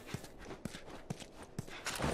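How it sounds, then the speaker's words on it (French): A horse in a video game trots along at a steady gait, with clear hoof clip-clops at an even rhythm, moderately close. "À cheval."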